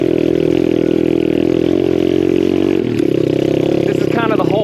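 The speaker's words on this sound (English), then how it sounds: "So this is just me testing out the pit bike." A home-built pit bike engine runs close by, a steady buzzing drone that dips briefly in pitch before settling again, with a brief rattle near the end.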